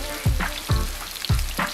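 Thick fillets from a big freshly caught fish fry in a pan, sizzling loudly and close, with three heavy thumps of something being moved about in the pan.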